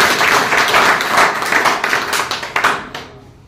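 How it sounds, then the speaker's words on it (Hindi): An audience at a Lineman Day event applauds loudly, with a dense burst of clapping that thins into scattered claps and fades out near the end. "जोरदार तालियां बजाकर।"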